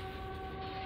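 A siren in the video game Silent Hill 2 holds a steady, droning wail of sustained tones over a low rumbling bed, with no voices.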